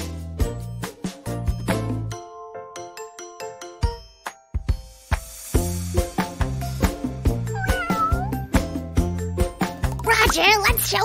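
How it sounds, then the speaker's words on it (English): A cartoon kitten meows a few times amid bright, plinking children's music with bell-like chimes, the mews rising and falling over the steady beat. "What does the kitten say? That's right, meow."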